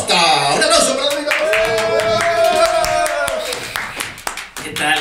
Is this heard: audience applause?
yes